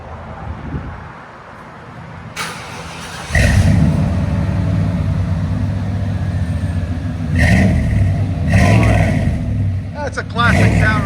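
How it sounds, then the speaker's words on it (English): Chevy 1500 long-bed truck with a 5.7L 350 V8 and Flowmaster 40 dual exhaust, starting up into a deep burbling idle, then revving in several loud surges, close by with people talking over it. "We'll let you guys hear it on more Chevy Flowmaster 40."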